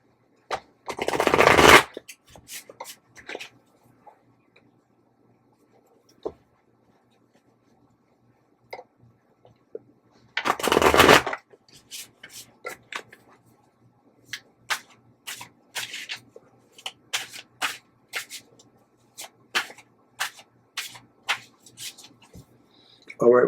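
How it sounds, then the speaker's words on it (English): Tarot cards shuffled close by in two long riffling bursts, followed by a string of sharp flicks and taps as cards are handled. "I want to give them a good shuffle."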